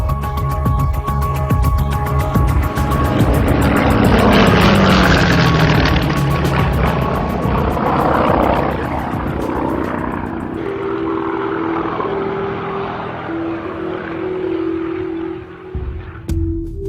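Il-2 Sturmovik attack aircraft with its propeller engine roars loudly and close, the drone rising and falling in pitch as the plane passes, then settling into a steadier, thinner hum.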